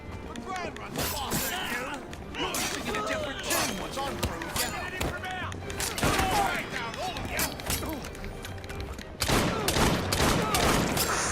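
Bursts of gunfire in Assassin's Creed Syndicate, repeated shots and booms scattered through a chaotic fight, with players talking over the action.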